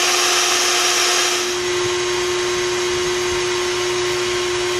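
A vacuum runs during removal of honey bee colonies at a fishing camp, a loud, steady motor whine with a constant hum that dips slightly in pitch early on, then holds unbroken.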